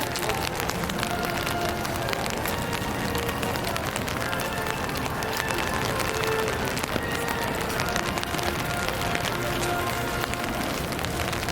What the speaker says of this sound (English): Super rainy out here.